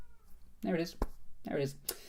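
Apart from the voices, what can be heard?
cat meowing outside the door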